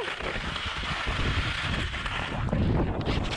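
Strong wind buffeting the microphone on the steep Breckenridge Lake Chutes trail in low visibility, a continuous loud rumbling roar that swells slightly toward the end, with no voices.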